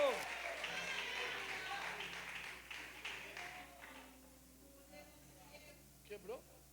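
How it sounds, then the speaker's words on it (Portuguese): Church congregation applause at a worship service, moderate clapping that fades out over several seconds, with voices talking over it. "Se puder misturar esse aplauso com glória a Deus aí."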